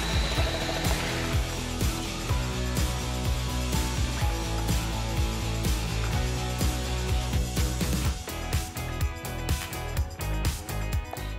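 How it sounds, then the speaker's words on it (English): A Bamix hand blender fitted with the SliceSy attachment slices peeled potatoes, giving a steady, close motor whir with rapid rhythmic chopping clatter throughout. "Peeled potatoes are cut into regular fine slices in seconds."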